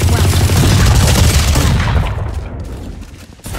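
Shotgun fire in a tactical video game, a loud burst of heavy gunfire that fades after about two seconds, with a brief quieter tail.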